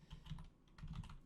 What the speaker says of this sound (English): let me just finish typing that out